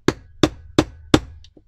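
A hammer strikes a Cropadile hole-punching tool four times at an even pace, driving it through chipboard. Each blow is a sharp, loud thwack, close by, followed by a faint small tap at the end.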